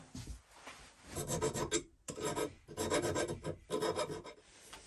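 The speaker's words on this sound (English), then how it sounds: "Just get a wee bit of file work, clean it up." Rhythmic rasping strokes of a hand file on a metal part of a mini lathe cross slide, several bursts of back-and-forth scraping separated by brief pauses, close and clear.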